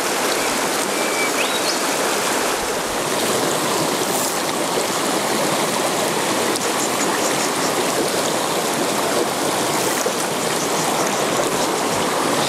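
A small river stream flows steadily throughout, a dense, constant rush of water up close with no talking over it.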